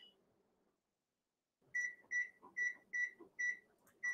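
An oven timer beeps repeatedly while being set for brownies in a home kitchen, giving seven or eight short, evenly spaced electronic beeps close by after a quiet pause.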